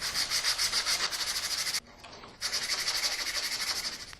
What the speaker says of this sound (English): So I'm just going to use some of this 180 grit sandpaper wrapped around a ruler just to get into those little slots